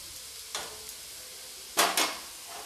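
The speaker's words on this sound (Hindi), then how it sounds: "कैबेज को भूनते हुए लगभग 1 मिनट हो चुका है।" Cabbage being stir-fried in a pan for a stuffed cabbage paratha filling, with a soft sizzle and a few brief scraping stirs, the loudest pair near the end, close by with no talk.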